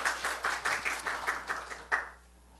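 A church congregation claps together in a short burst of applause during a worship service, rhythmic hand claps filling the room for about two seconds before fading out.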